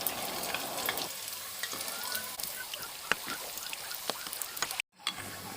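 Rava (semolina) snacks deep-fry in hot oil, giving a continuous crackling sizzle with scattered pops and bubbles. The sound cuts out briefly near the end and then resumes.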